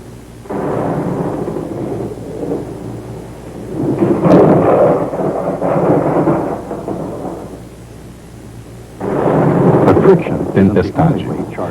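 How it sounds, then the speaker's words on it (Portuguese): A thunderstorm rumbles with low rolling thunder in several long swells, loud and close, with no voices over it. "Tempestade."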